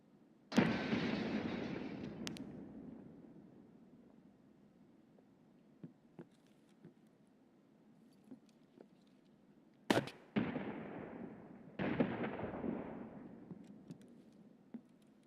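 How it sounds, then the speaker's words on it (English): A grenade explodes in the video game Escape From Tarkov with a loud, sharp blast and a long rumbling decay. After a quiet stretch with small clicks, two more heavy bursts follow close together. "That was a grenade that got thrown at me."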